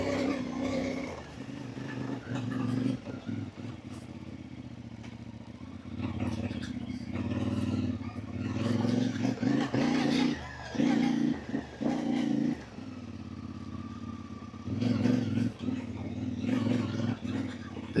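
A CFmoto 450 MT motorcycle rides slowly off-road over frozen sand in a slightly higher gear. The engine holds a steady low drone with uneven surges and some clattering, and a rider talks over it at times.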